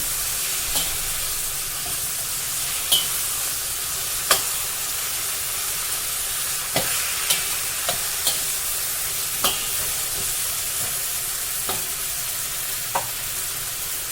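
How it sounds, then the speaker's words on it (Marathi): Eggplant pieces stirred in hot oil over a high flame, a steady crackling sizzle broken by sharp scrapes and taps of the spatula against the pan at irregular intervals, no voices. "वांगी आपल्याला तेलामध्ये मिक्स करून द्यायची आहे"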